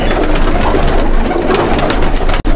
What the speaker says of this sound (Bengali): আমার রামপুরি কবুতর